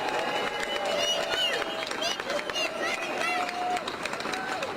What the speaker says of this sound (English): Let's give them a tremendous round of applause.